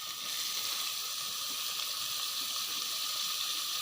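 Siru keerai greens go into a pan of sautéed tomatoes, producing a close, even sizzling hiss that holds steady throughout.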